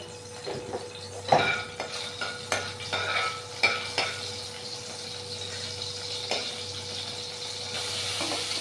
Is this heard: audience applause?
no